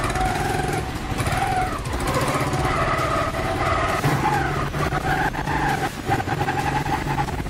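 A motorcycle engine runs steadily and loudly nearby, chugging and revving slightly throughout.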